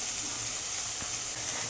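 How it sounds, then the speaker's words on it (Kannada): Chopped onions with garlic frying in a pan make a steady, soft sizzle and hiss close by, with a brief stir partway through and no talking. "so I will put in the chopped onions"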